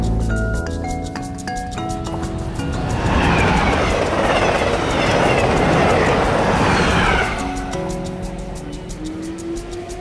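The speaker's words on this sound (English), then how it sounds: "here you have this train coming every 30 minutes on a weekend" A train on a rural Japanese line rolls in, its broad rumble and rattle swelling to a loud peak in the middle before easing off, with a faint rising squeal as it slows at the end.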